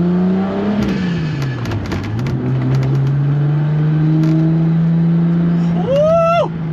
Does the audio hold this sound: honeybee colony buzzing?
no